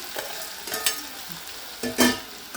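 Onion sizzling in oil in a pan while being stirred, with bursts of crackling and scraping that swell and fade several times, close and fairly loud.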